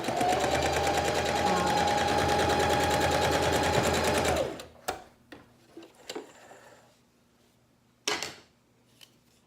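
A sewing machine stitches in a fast, steady whirring run for about four seconds, then stops, leaving a few sharp clicks and knocks from the mechanism in near quiet.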